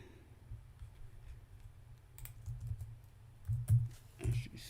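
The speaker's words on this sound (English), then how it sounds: "If I could type tonight." Typing on a computer keyboard at a desk: soft, quiet key clicks in irregular bursts, growing a little louder toward the end, with low background hum and no talk.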